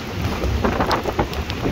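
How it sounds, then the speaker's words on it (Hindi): Heavy rain pours steadily during a night drive through dense forest in Uttarakhand, a constant broadband wash with occasional louder splashes and drumming, no voices. "बहुत तेज है बारिश, बहुत तेज है।"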